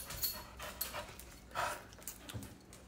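A dog pants softly and rhythmically nearby, quick breathy puffs repeating under a faint background hum.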